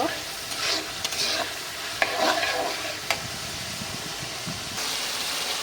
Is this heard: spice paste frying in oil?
yes